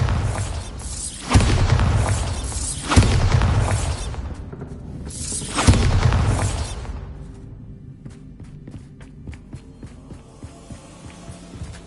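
The Bombarda blasting spell in Hogwarts Legacy on PS5 sets off a run of loud, deep booming explosions with whooshing bursts, three heavy blasts in succession that then fade into a low rumbling hum and scattered crackles.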